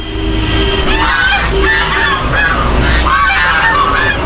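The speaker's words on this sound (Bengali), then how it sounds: "বেশ কয়েকটা রাজহাঁস এখানে কিন্তু রয়েছে।" Several geese honking repeatedly at a children's park in Gadiara, loud and close over a steady outdoor background with no talk.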